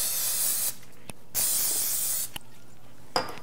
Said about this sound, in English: you want to open it up and you want to spray it with Pam